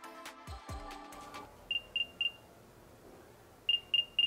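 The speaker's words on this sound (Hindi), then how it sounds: "जब आप साउंड प्ले करते हो तो ये इसके अंदर से साउंड आती है, लाइक ऐसे रिंगटोन टाइप का बजने लगता है" An AirPods Pro 2 clone charging case plays its find sound, a loud electronic tone after a few clicks, then two bursts of three short, bright beeps each, with nothing else in between.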